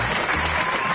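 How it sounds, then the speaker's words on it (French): Dense applause sound effect played in a radio studio by the sound engineer, a steady wash of many hands clapping close and loud for about a second, with faint voices underneath. "qui n'oubliera pas de préparer les petits applaudissements"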